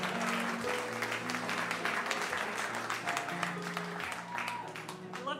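An audience at a live storytelling show at Joe's Pub applauds in a sustained, moderately faint wash of clapping, with a voice speaking over the applause.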